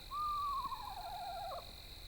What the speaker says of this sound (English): Bubo shows up in Clash of the Titans as a metallic owl.